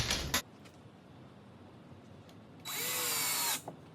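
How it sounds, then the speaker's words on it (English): A power drill drives screws downward into a drawer side while side-mount drawers are installed in a cabinet: a short, loud whirring burst, a pause, then a longer, steady high whine of about a second before it cuts off. "when I'm drilling down, I don't use the fancy square bit driver screws"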